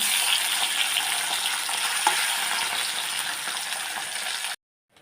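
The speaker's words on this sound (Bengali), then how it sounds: "এখন ভাজবো সবগুলো মাছ আমি এইভাবে ভেজে নেব" Steady, close sizzling of raikhor fish, rubbed with turmeric and salt, frying in a pan; a bright continuous crackle with no talking, cutting off abruptly near the end.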